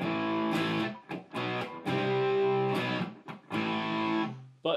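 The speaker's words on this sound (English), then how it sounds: "after that, I went to a heavier distortion" Electric guitar through a Line 6 Helix with heavy overdrive distortion plays sustained chords and a few short choppy stabs, loud and thick, with no talking.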